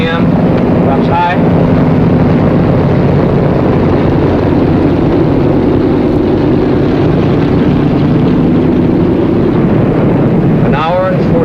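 Aircraft engines run down after landing in a 1950 film. A loud, steady, rumbling engine drone with a windy rush fills the whole stretch, and faint chirping tones briefly rise above it near the start and end.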